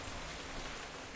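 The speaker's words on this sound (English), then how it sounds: "I've had enough rain for the next like 200 days" Rain falls in the Minecraft video game as a soft, continuous hiss, faint and even, with no voices over it.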